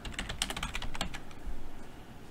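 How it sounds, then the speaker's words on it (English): Text typed on a computer keyboard, a quick run of close, crisp key clicks in an irregular rhythm over about two seconds, heard on its own. "type your text."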